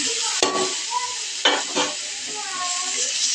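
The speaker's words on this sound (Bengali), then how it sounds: "মিক্স করে সুন্দরভাবে মিক্স করে নিতে হবে ছানার সঙ্গে, গাজরটা যাতে একেবারে মিশে যায়।" Chhana being stirred into boiled carrots softened in melted sugar in a pan, with a steady sizzling hiss and a few scraping spoon strokes against the pan, close and alone without talk.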